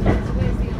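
A train passing close by, a dense, steady low rumble with faint wheel clatter lasting under a second.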